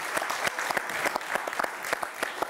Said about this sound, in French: Le club de Caluire, on peut les applaudir.